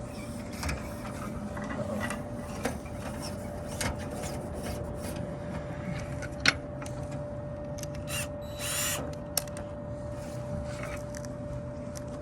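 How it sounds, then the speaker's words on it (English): A brush scrubs inside a clogged rooftop dryer vent. Faint scraping and rubbing with occasional knocks sit over a steady low hum, with no voices. "So what I'm gonna do is I'm gonna run this brush down there."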